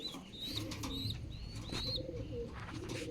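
Pigeons coo steadily nearby, layered with thin chirps from young birds and a busy outdoor background, with no talking.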